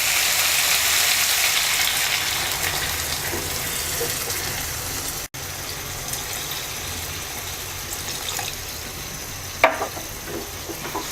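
Two cups of water go into a sizzling bitter gourd and potato curry, a steady hiss of frying and liquid that carries on throughout, with a sharp clatter of a utensil near the end.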